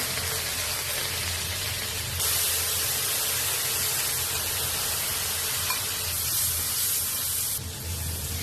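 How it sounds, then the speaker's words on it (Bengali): Cumin seeds and bay leaf sizzle steadily in hot oil, a loud, close, continuous hiss with no talking. "তেলে জিরা দিলাম, জিরা, তেজপাতা, সবগুলো মশলা দেওয়া হলো"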